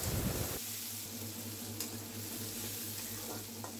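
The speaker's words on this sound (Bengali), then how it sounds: "তেলের উপর শুকনো মরিচ, কাঁচামরিচ, পেঁয়াজ, রসুন দিয়ে সুন্দর করে নেড়েচেড়ে গোলাপি করে নেব।" Dried chilies, green chilies, onion and garlic hit hot oil and are stirred, opening with a loud burst of sizzle that settles into a steady, close frying hiss with occasional stirring scrapes and no talking.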